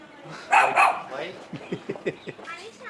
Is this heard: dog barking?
yes